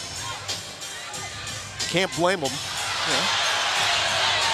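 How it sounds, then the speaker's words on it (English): A basketball arena crowd at Texas A&M, during a women's NCAA second-round game against Marquette, murmurs and groans in a broad rising roar under commentators talking over it. "crowd here at Texas A&M is responding to the replay. They don't like the look."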